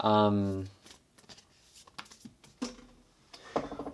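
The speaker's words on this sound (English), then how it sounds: "Let's pull some more oracle cards for you, Pisces." Oracle cards being shuffled and drawn: soft riffling and light papery taps between bursts of someone talking.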